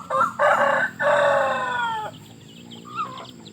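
Roosters and chickens on a farm where fighting cocks are kept: a close, loud crow rings out, followed by softer clucking and a brief fowl call afterward.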